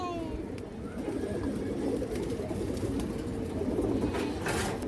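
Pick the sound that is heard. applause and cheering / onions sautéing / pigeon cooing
pigeon cooing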